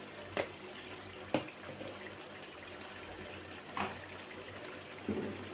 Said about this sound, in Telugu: ఇప్పుడు మనం చింతపులుసు పోసుకుందాం